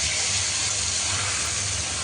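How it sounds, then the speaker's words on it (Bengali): Whole bay leaves, cinnamon, cardamom and cloves sizzle in hot oil for biryani, a loud, steady hiss that fills the whole moment without a break. "এখন তেজপাতা, দারচিনি, এলাচ, লং ওগুলো দিয়ে দিলাম তেলে।"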